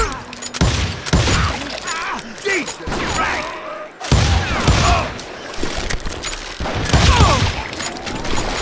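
Gunfire in the Call of Juarez Gunslinger video game, repeated loud shots in bursts with overlapping crashes and mechanical clatter throughout, some game voice mixed in.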